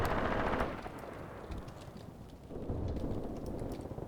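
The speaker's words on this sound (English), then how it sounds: "More artillery is landing out in the open." Artillery and machine-gun fire in the WWII tactical game Graviteam Tactics, Luga Line bridgehead battle: dense rumbling barrage with rapid crackling bursts, heaviest at the start, easing midway, then building again, with no voices.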